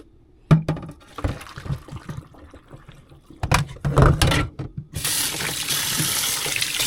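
Tap water runs into a kitchen sink or container, a steady bright rushing stream that starts partway through after a few scattered clinks and knocks of cooking utensils.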